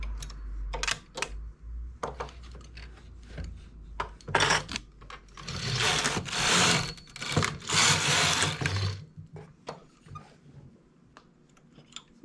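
Knitting machine working a V-neck decrease, with bursts of rattling, clacking carriage passes and sharp mechanical clicks of needles, close and fairly quiet, with pauses between strokes and no talking.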